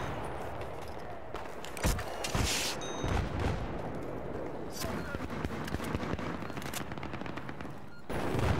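Dense video game battle scene with a big gun firing: repeated heavy gunshots and bursts of fire keep hitting through the whole stretch, loud and cluttered over a rumbling backdrop.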